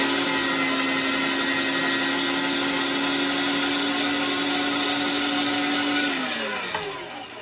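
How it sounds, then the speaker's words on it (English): A motor-driven meat grinder grinds venison with a steady, loud whirring hum. Near the end the pitch drops as the motor winds down, and no one speaks. "run some more meat through the grinder"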